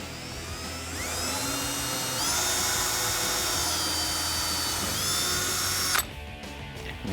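Whining power drill fitted with a 3/32 bit drills into a 2014-2018 Silverado 1500 truck fender, its pitch dipping and rising in steady bursts for six seconds, close-up, then stopping.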